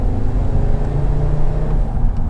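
A turbocharged Audi TT-RS engine pulls in fourth gear from around 2,800 RPM, a steady low drone building under road noise, heard from inside the car with no talking.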